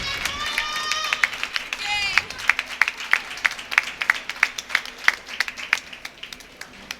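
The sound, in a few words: Scranton hockey fans applauding their team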